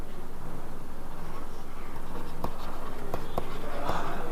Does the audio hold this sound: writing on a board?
yes